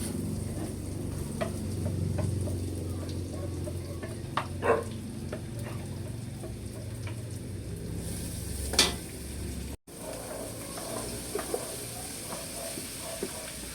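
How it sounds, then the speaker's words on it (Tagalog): Garlic and onion sautéing in a pan for pork igado give off a steady close sizzle and hiss, with occasional stirring clicks and scrapes and one sharper knock near the end. "Si RJ pinagigisa na. Doon pong bawang at sibuyas."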